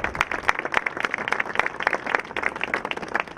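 A crowd at a French civic gathering with a mayor present applauds steadily, dense clapping sustained at a constant level throughout.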